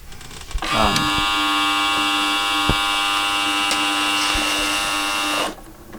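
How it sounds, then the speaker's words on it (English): A home office printer, copier and scanner machine runs as a raw sample: a steady, bright mechanical buzzing tone that starts abruptly, holds for about five seconds with faint clicks, then cuts off, close and alone. "The main sample for this song is a sample of my home office printer, copier, scanner machine, and here is the raw sample."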